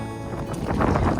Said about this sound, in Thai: ลมแรงมากค่ะ เดินฝ่าลมค่ะ